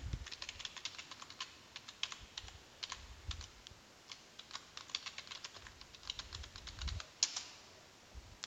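Steady stream of computer keyboard keystrokes as a password is typed on a Windows Server 2019 machine, quick irregular clicks in short bursts, close and fairly quiet, with no talking.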